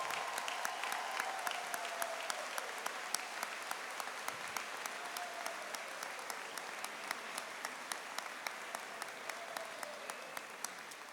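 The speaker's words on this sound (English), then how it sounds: "Can we give them a round of applause," A convocation audience applauds first-year teachers joining a school staff: steady, even clapping from a large room that continues for around eleven seconds at a moderate distance, with no voices.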